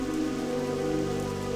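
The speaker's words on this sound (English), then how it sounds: "Ooh, it's raining in Felwood." Steady rain falls in Felwood, a zone of the video game World of Warcraft Classic, making a soft, even, continuous patter with no voices over it.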